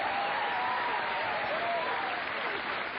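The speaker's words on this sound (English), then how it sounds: "Give him a big round of applause." Audience at a 1985 televised stand-up comedy special applauds a comedian with dense, steady clapping that holds loud and even for the whole stretch, with a faint murmur of the crowd underneath.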